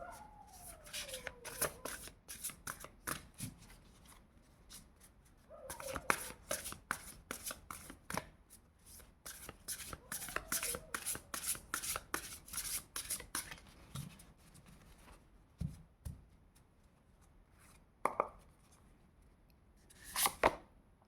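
Tarot cards being shuffled by hand in repeated bursts of quick papery riffling and flicking, close and fairly quiet, with short pauses between rounds and a few soft taps of cards being set down.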